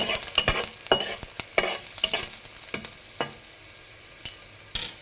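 Garlic frying in a pan, with a crackling sizzle and quick clattering stirs of a spoon against the pan, close up and with no voices.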